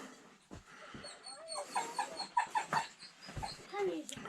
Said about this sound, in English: Dogs whining around.